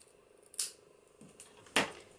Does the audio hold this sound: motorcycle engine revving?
no